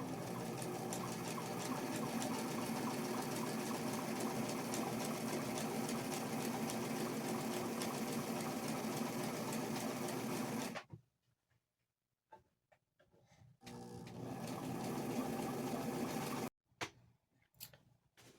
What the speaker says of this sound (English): put that pressure foot right on the edge of that fabric and start the zigzag